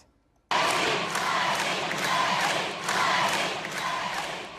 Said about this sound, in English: the crowd kept chanting Lainey